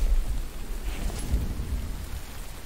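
Rain falls in the survival video game Infected, a steady wash of rainfall with a low rumble, moderately loud and continuous with no voices.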